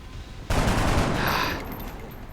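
A soldier's gunshot in the turn-based strategy game XCOM: Enemy Unknown, a sudden loud burst that holds about a second and then fades into a lingering rumble.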